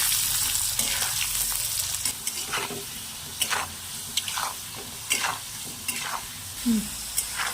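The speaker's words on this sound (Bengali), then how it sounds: "আলুগুলো আমি ভেজে নেব।" Potatoes frying in oil in a kadai, a continuous sizzle with repeated spoon strokes stirring through the pan at a steady rhythm, close and fairly loud, no voices.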